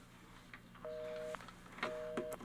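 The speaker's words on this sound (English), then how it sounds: "That line is busy. I know it's busy. I can hear it." A telephone busy signal gives two short, even tones heard close over a faint background hum, with a brief pause between them.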